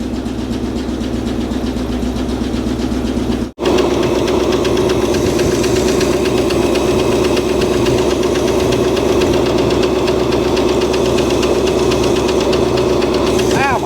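A rough Cadillac engine, run after sitting over 30 years, idles steadily and loudly up close, with a rhythmic knocking tick running through it and a brief dropout early on.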